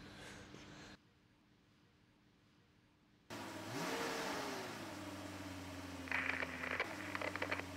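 A car starts up and revs, then drives slowly over an iPod nano, its engine growling steadily nearby with a few faint crackles near the end and no speech.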